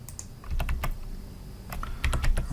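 Keys clatter on a computer keyboard while code is being formatted, in uneven bursts of close, crisp clicks with short pauses between runs.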